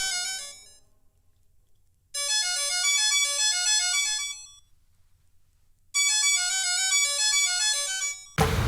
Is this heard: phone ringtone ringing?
yes